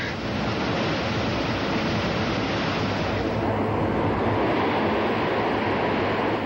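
Coatán river in flood, pouring down from the mountains with a loud, continuous roar of rushing water, close and unbroken, with no talk.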